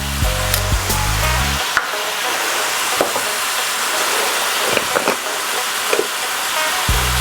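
Food fries in a pan with salt added, giving a steady close sizzle. A utensil scrapes and taps against the pan now and then while it is stirred, and a low thud sounds at the start.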